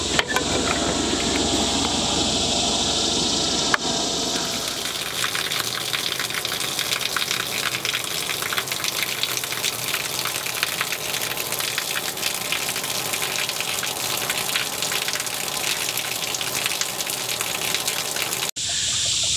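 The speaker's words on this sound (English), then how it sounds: "I'll turn the pump on from my pond and get this shower operating." An outdoor garden shower fed by a pond water pump gushes in a loud, continuous, close stream that shifts slightly in tone early on, then runs steadily without talk.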